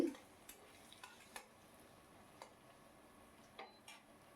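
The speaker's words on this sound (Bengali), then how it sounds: "মুগ ডালটা ধুয়ে রেখেছিলাম সেটাকে আমি ওই তেলের মধ্যে ছেড়ে দিলাম ফোড়ন সমেত এটাকে হালকা ভাজা করে নেবো" Washed moong dal fries faintly in oil with whole-spice tempering, a quiet low sizzle broken by occasional sharp taps of a spoon stirring the pan.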